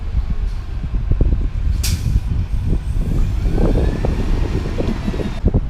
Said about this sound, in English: Santa Ana's also rocking a Gillig.